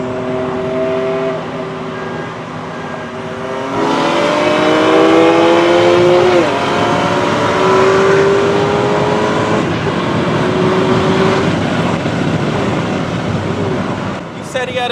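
A modded BMW M2 accelerates hard with turbo noises, its engine note climbing through several gears in a loud, continuous run that sounds close by.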